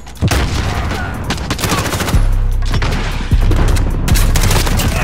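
Rapid bursts of automatic gunfire in the video game Modern Warfare in hardcore mode, loud and close, with dense repeated volleys and booming shots packed into a few seconds.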